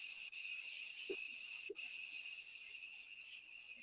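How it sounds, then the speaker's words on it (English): A steady, high-pitched chorus of crickets trills without pause on a quiet night at the Salt River, with a couple of faint soft knocks. "Just listening to the crickets chirp"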